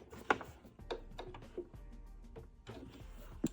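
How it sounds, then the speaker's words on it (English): A sewing machine stitching a straight quarter-inch seam on a zipper pouch, soft mechanical ticking and whirring up close, faint and steady with a few sharper clicks. "And we're just going to be sewing"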